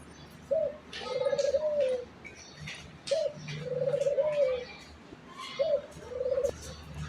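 Pet pigeons coo close by in repeated soft, throaty phrases, three bursts spaced a couple of seconds apart, with faint chirps and rustling around them and no voices.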